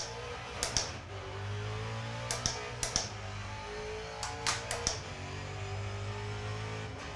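A race car in the iRacing simulator gives a steady, even engine drone throughout, broken by a few sharp clicks near the start and middle.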